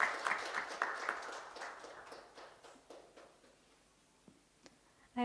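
Audience at a regional women's entrepreneurship finals event claps after a presenter finishes; a brief burst of applause tapers off to scattered claps within a few seconds.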